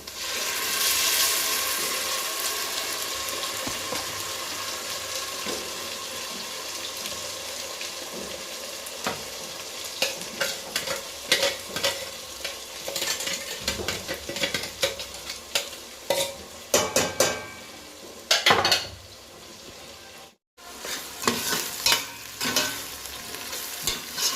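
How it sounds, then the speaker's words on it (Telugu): Spinach and onions for palak pulao sautéing in a pan, a close, continuous sizzle broken by repeated scraping and stirring strokes, with a short pause partway through. "ఇప్పుడు ఇంకా పాలకూర వేసేసుకుందాం, ఎందుకంటే ఆనియన్స్ అవన్నీ కూడా మగ్గిపోయినాయి మంచిగా."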